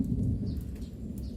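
Deep thunder rolls steadily through a rainstorm with strong winds and lightning, a low, continuous rumble that fills the whole moment, with faint higher chirps drifting above it.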